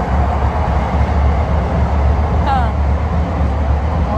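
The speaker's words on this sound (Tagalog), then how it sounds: "tama-tama dadaan yung tren" Train passing near a home veranda, a steady loud low rumble filling the whole stretch with a brief higher squeal midway; a voice is present underneath.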